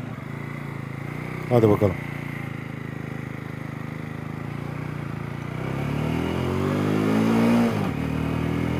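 A 2022 Jawa 300 CL motorcycle climbs a steep hill, its engine drone rising steadily as it pulls harder, with a man's brief spoken remark near the start and wind rumble throughout.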